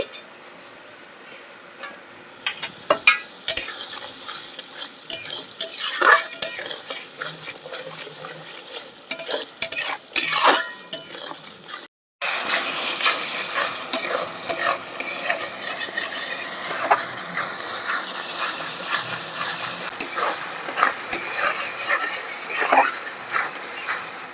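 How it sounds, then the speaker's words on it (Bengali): A spoon stirs yogurt and spice masala in a pan for doi katla, with scraping strokes and a steady sizzle that grows louder and more constant after a brief pause midway. "ভালো করে সব মশলার সাথে মিশিয়ে নেব"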